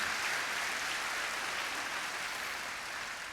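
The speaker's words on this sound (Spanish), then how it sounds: "Denle un aplauso al Rey" A church congregation applauds at a Spanish-language sermon, a dense, steady wash of clapping from many hands that holds evenly and tapers slightly at the end, with no voices over it.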